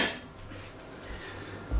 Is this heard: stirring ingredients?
yes